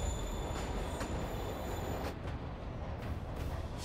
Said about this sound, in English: Have to get in the train.